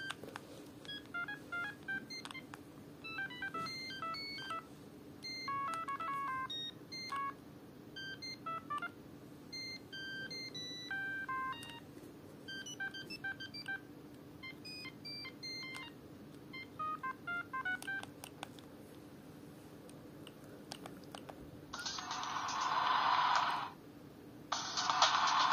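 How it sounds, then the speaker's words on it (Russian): Ringtones from a Siemens C72 mobile phone play as a string of short electronic tone melodies, then a brighter, denser burst near the end. "EMS рингтоны"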